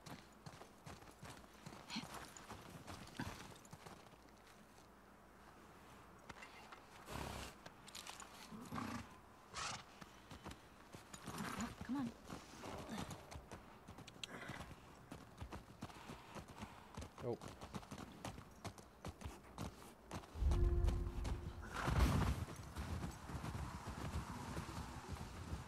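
Horse hooves in the video game The Last of Us Part II clip-clop at an uneven pace under light background noise, with a louder thump of movement near the end.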